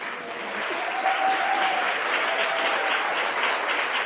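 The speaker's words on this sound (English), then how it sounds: "we can just keep this roaring bit of applause" Roaring applause fills an education event hall, a dense sustained wash of many hands clapping that swells in quickly and holds strong throughout, with a faint tone running beneath.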